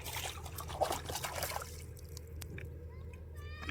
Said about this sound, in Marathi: आता आपण तवा धुवून काढून ठेवू नये का